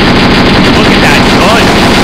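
An American M60 machine gun fires in a Graviteam Tactics battle set in the Soviet–Afghan war, a loud, dense rattle of automatic fire over steady battlefield rumble.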